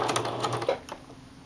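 A sewing machine sews a satin stitch circle with a very short stitch length and loosened tension. Quick, even mechanical ticking runs for about a second, then fades out. No voices are heard.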